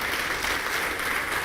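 A congregation at a church service gives a short burst of dense, steady applause for Jesus, continuous and moderately loud throughout.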